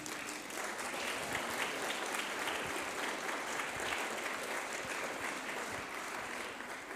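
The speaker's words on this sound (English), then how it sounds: "they deserve a round of applause as well" Steady applause from a crowd, continuous clapping filling the room at an even level throughout, with no pauses.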